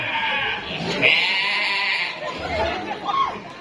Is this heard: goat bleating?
yes